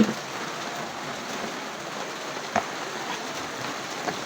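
Typhoon rain falls steadily, a dense, even hiss of drops on surfaces close by, with a few louder splashes and knocks standing out and no voices.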